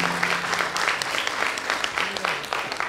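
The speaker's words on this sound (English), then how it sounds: "I think the loud applause would mean a lot more to them and to me." An audience at a Bharatanatyam arangetram applauds a music ensemble, a steady wash of clapping with some murmured voices mixed in.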